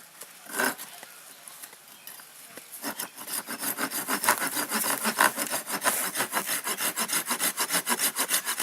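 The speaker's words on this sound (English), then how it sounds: "I'm going to take a saw, a little hand saw," Small hand saw cutting a wedge-shaped slot into a wooden bowdrill board, a few hesitant strokes at first, then steady, fast back-and-forth rasping strokes, close and fairly loud.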